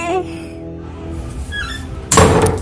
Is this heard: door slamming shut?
yes